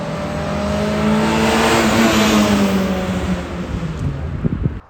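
A Peugeot 205 with a Group N exhaust line revs hard, its engine note rising and sustaining as a loud close roar before dropping away with a few crackles at the end.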